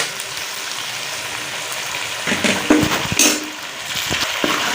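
Chicken and crushed green chilies are stirred together in a kadhai. A steady sizzle runs underneath, with scraping and clinking of a spoon against the metal pan in the second half.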